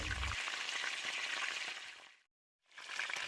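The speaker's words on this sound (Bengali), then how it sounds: "এবার সব মশলা একসাথে মিক্সড করে কষিয়ে নেবো" Spice masala frying in a pan as it is stirred, a dense steady sizzle with a brief low thump at the start, cutting out to silence near the end before resuming.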